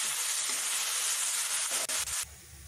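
Lentils for Bengali khichdi frying in oil while being stirred, a steady dense sizzle and hiss with scraping stir strokes, which drops off abruptly near the end.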